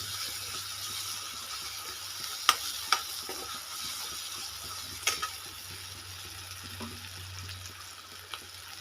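Phodni tempering of chillies sizzling in hot oil for a mung sprout curry, a steady fine crackle running the whole time with a few sharp clinks of a spoon against the pan and no talking.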